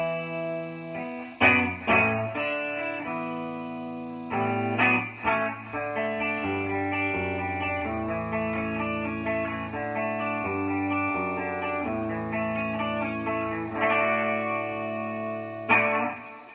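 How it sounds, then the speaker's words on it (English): A Rickenbacker 360 Mapleglo electric guitar played through its two proprietary pickups, ringing chords and melodic lines with a jangly, effected tone, continuous and fairly loud throughout with a few sharper strummed accents. "two Rickenbacker proprietary pickups, which sounds like this."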